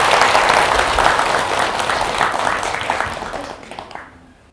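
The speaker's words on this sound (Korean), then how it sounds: "그렇으니까 박수 한번 치고 시작합시다." An audience at a Buddhist dharma assembly at Baegyangsa temple in Ulsan claps loudly together, a dense burst of applause that gradually thins and fades out over about four seconds.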